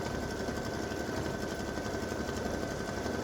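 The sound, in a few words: sewing machine stitching turkey feathers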